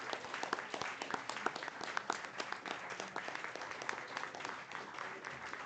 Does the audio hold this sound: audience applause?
yes